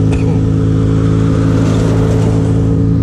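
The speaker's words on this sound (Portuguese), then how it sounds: "pra vocês verem aí a potência de uma moto 600 cilindrada" A Yamaha XJ6 600cc motorcycle engine revs steadily while being ridden on a road, a loud, close, continuous droning hum with no talking.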